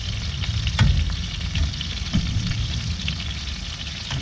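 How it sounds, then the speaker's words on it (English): Tomatoes sautéing in oil in a pan for a chilli tomato sauce, a steady low sizzle with occasional soft stirring clunks, close and alone without talk. "let them saute in the oil."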